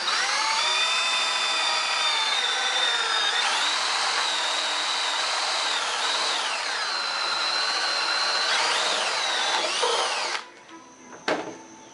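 A power drill spins a filed spade bit through wood, a loud sustained whine that shifts in pitch as the bit bites and slows, then cuts off abruptly near the end, leaving brief clatter and quiet.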